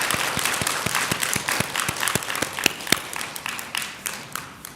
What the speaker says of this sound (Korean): 초삼일 기도를 이끌어 주신 주시스님과 우리 지호스님께 박수 한번 보내주세요.